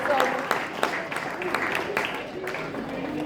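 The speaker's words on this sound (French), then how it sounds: "Vous pouvez l'applaudir, hein." Scattered applause from an outdoor crowd for a runner who has just finished a race, with a few sharper claps standing out among steady clapping and voices talking over it.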